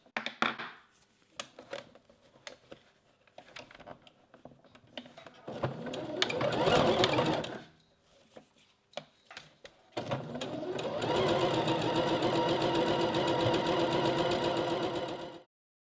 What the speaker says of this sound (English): I'm going to use a 3-step zigzag stitch.